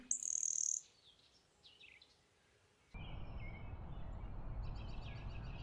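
Birds chirp and tweet, first in a bright, sharp burst, then softer scattered calls over a rising outdoor background noise.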